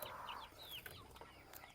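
Turkeys call from a farmyard, a few short gobbling and clucking bursts at moderate distance with faint background noise and no talking.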